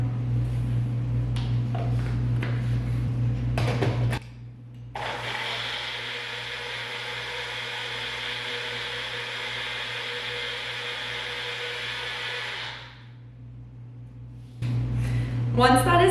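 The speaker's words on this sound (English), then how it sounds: "I like to blend all of mine together, so I'm gonna go ahead and do that now" A small blender whirs steadily for about eight seconds, blending blueberries into a chia pudding mixture, with quieter kitchen handling before and after the run.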